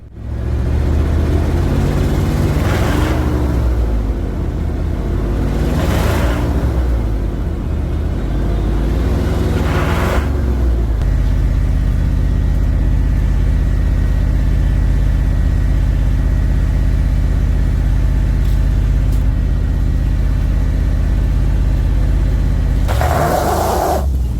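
A vehicle towing a sawmill trailer idles and revs in short pulses as it pulls forward about thirty feet, a loud, close, rumbling engine that settles into a steady idle drone.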